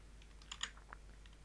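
Computer keyboard keys tapped during a Windows 10 PowerShell session, a short burst of quiet, close clicks with a few separate keystrokes over a low steady hum.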